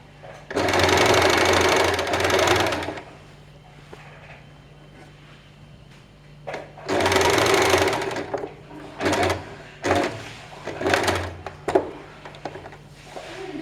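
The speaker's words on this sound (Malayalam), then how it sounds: "ഇത് സ്റ്റിച്ച് ചെയ്ത് ഞാൻ നിങ്ങൾക്ക് കാണിച്ചു തരാം" An electric sewing machine stitches a nightie seam in loud, close bursts of rapid whirring, two long runs followed by several short stops and starts.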